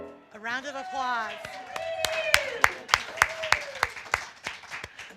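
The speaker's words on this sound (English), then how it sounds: "A round of applause." A voice rises at the start, then steady, evenly spaced clapping begins nearby and continues while the voice carries on.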